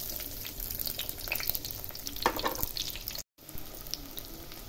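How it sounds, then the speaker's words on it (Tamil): Small onions frying in hot oil with fenugreek seeds for a fish curry, giving a quiet, crackling sizzle with stirring noises and a brief dropout near the end. "வெந்தயம் பொரிஞ்சதும் ஒரு 15 சின்ன வெங்காயம் கட் பண்ணி வச்சுருக்கேன்,"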